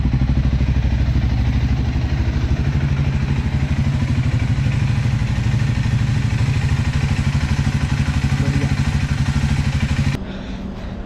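A Scrambler 400 X motorcycle engine with an updated tensioner runs loud and close in a steady, unbroken throb, then drops to a quieter level just before the end.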